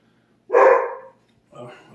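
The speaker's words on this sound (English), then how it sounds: "That's my dog." A single sharp dog bark close by, followed by a shorter, softer second bark a moment later, with quiet around them.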